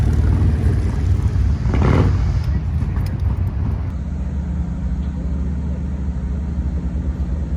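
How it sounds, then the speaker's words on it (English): A Harley FXLR motorcycle with a Milwaukee 8 engine and a new Vance & Hines 50-state-legal exhaust rumbles close by in wet conditions at Sturgis, a deep steady low-end drone with a brief swell partway through. "That's an Fxlr with a Milwaukee 8 engine, the new Vance & Hines 50 state legal pipe"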